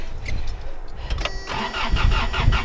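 A truck engine cranks and catches after a jump start in winter, then settles into a loud, close, rough idle.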